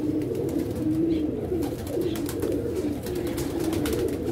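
Pigeons cooing steadily at a pigeon loft, a continuous close chorus of low throaty coos layered over one another with no talk.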